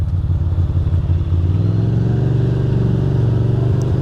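A Ducati Monster 620 motorcycle rides through wet New York City streets, its engine loud and close with a steady, slightly uneven throb that rises in pitch partway through, and no talk.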